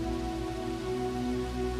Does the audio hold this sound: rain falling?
yes